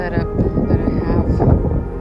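Wind blowing outdoors, strong enough to scatter items laid out in the open, rumbles as a steady, loud, low buffeting roar across the microphone throughout, with no pause.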